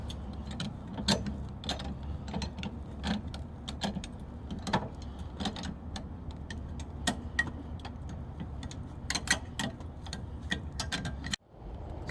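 Car jack cranked by hand to lift a vehicle for a tire change, giving a long run of irregular metallic ticks and clicks, fairly faint and close, with a brief dropout near the end.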